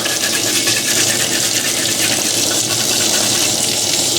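Running water sprays steadily over a Yamaha RX-E600 receiver circuit board being washed, a constant loud hiss and splash without pause.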